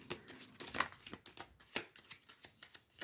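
Tarot cards being shuffled by hand at close range, a quick run of soft riffling bursts and crisp papery slaps in an uneven rhythm, quiet with no talking.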